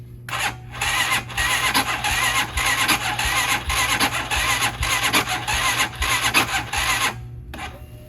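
Hawk DLX motorcycle with EFI cranking and starting in 10°F cold, a steady raspy engine drone running close and loud for several seconds, with brief breaks near the start and end.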